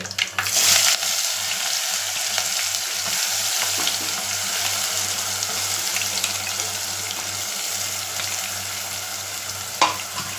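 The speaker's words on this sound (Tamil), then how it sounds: "போட்டு கொஞ்சம் எண்ணெயில் வதக்கி விடணும்" Curry leaves and ground masala paste sautéing in hot oil, a close, continuous loud sizzle with faint stirring scrapes throughout and a low steady hum underneath, one sharp clink near the end.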